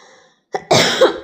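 A single close, harsh cough from someone with a cold bursts out after a brief faint tone and silence, loud and rough with a short second push.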